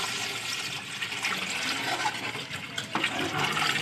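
A besan and yogurt mixture poured into frying masala in a pan, a soft continuous splashing and liquid pour with faint sizzling, close and fairly quiet, with no talk.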